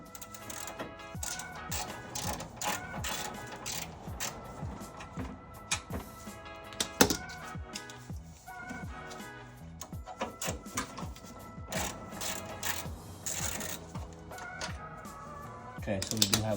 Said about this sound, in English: Now we're gonna go ahead and take off these 2 bolts underneath, and then just see how it goes.